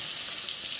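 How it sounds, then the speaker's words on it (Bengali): Brinjal (eggplant) slices fry in hot oil, giving a steady, close hiss of sizzling that stays even throughout the brief moment. "এখন আমি বেগুন ভেজে নেব।"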